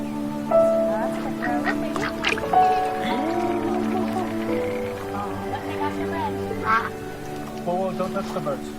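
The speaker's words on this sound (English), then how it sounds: "don't touch the birds" Ducks quacking in the video game That Dragon, Cancer, a run of nasal calls over a tonal game backdrop, with a voice talking over them at times.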